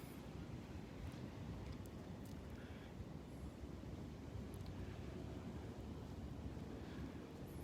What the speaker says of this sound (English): Bit of a breeze blowing.